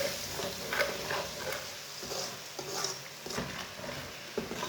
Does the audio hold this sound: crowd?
no